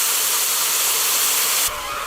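Water poured into a hot pot of Trinidad lamb curry on a barbecue sends up a loud, broad steam hiss that holds steady, then softens and changes tone near the end.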